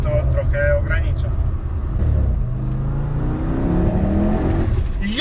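A 1040 HP Audi RS6 R accelerates at half throttle, its loud, close engine note rising steadily in pitch for several seconds, with voices in the cabin under it.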